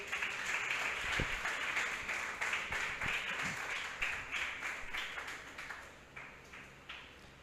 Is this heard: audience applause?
yes